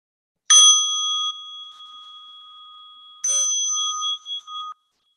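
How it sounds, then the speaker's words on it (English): A meditation bell is struck twice to open a mindfulness sitting, each clear ring sustaining and slowly fading, with a few seconds of quiet between strikes. "I'll call the bell."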